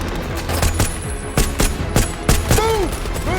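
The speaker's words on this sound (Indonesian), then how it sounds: "Suasana jadi kacau balau, peluru terbang kemana-mana." Loud bursts of movie gunfire crack in rapid, uneven volleys, with whooshing and ricochet-like whines among the shots.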